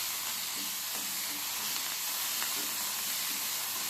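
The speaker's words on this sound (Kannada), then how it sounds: "ಚಟಾಪಟ ಚಟಾಪಟ ಫ್ರೈ ಮಾಡ್ಕೊಳ್ಳಿ" Coriander leaves frying in hot oil, a steady crackling sizzle with small pops and hiss, close and continuous with no talking.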